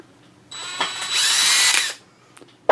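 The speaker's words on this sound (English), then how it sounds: "So if you reverse the drill with this trigger, you hold this nose" An electric power drill whirs in reverse for about a second and a half to loosen its chuck, a bright steady whine starting and stopping abruptly, close and alone.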